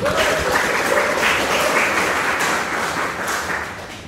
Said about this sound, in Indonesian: Tepuk tanganlah untuk kita semua.